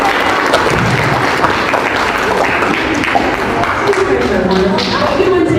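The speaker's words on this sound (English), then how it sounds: "Can we just give a quick round of applause for Ms." A crowd gathered at a community event applauds a teacher, Ms. Mullins, giving a loud, dense roar of clapping mixed with cheering voices that lasts throughout.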